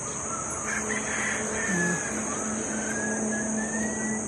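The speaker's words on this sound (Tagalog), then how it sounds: "Daming ibon." A large flock of birds, crow-like cawing calls, sounds over a steady high-pitched whine and low motor rumble, with scattered calls overlapping at moderate distance.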